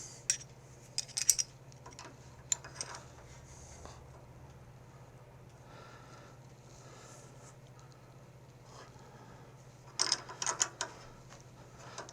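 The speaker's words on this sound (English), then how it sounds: "I'm going to hold the torques again and just make sure that nut is tight" A ratcheting wrench tightens a nut on a John Deere LA130 riding mower, quiet clicking bursts near the start and again around ten seconds, with faint metallic handling noise between.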